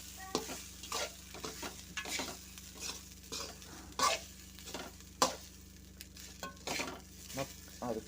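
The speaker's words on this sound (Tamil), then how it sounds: "பாருங்கள் இப்படி திருப்பி மிக்ஸ் பண்ணினே இருக்கணும்." Rice being stirred and turned with paruppu podi powder in a pan, a series of scraping, sizzling strokes at an uneven rhythm over a steady low hum, close and moderately quiet, with no talking.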